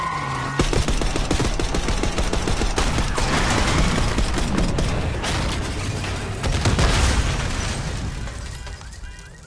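Dense, loud gunfire and booming blasts in Black Ops 6 fill the whole stretch, a street shootout at a limo with rapid bursts over heavy explosions and no pause.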